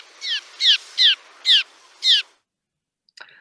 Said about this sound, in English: that's a bird called a cliff swallow.